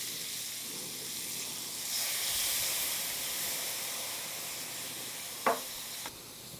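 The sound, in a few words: tequila sizzling as it burns off in a hot pan with shrimp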